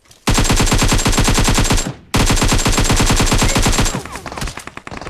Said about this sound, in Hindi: पास वाली छत से किसी ने दूसरी वाली गन से फायर करके बहुत ज़्यादा डैमेज कर दिया